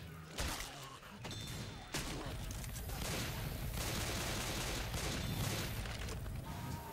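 Rapid gunfire rattles through a Left 4 Dead 2 round, loud bursts of shots and heavy booms running nearly nonstop with faint voices underneath.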